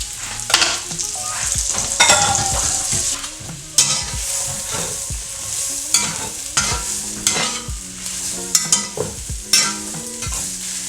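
Mushrooms and onions fry loudly in a pan, a constant crackling sizzle punctuated by repeated utensil scrapes and clatters as they are stirred.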